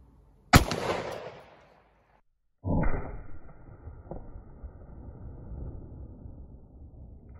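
A 4.5 inch XDM pistol fires a single 10mm round of 180 grain hybrid hollow point, a loud close crack that rings out and decays, followed after a short silence by a lower rumbling noise.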